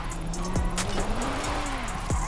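A BMW M3 E-series drift car in Forza Horizon 5 holds a steady engine drone while tires squeal through a slide, with a few sharp gear-change or rev blips cutting through.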